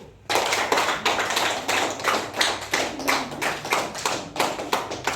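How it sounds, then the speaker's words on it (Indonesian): Steady applause for a student group fills a classroom, many hands clapping continuously at an even level. "Sekarang kita beri tepuk tangan kepada kelompok 1."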